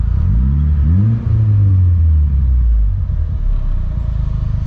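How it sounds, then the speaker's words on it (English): A Mitsubishi Evo 9 engine is blipped from idle, rising in a couple of quick revs and then settling back to a steady idle rumble, close and loud. "I'll show you guys a little rev right now."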